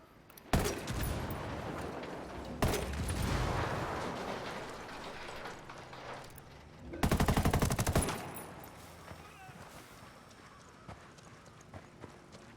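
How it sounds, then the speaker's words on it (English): Gunfire from the open-world shooter Ghost Recon Wildlands, a few loud close bursts with a dense sustained volley near the middle, separated by quieter stretches of ambient game sound. "Good shooting."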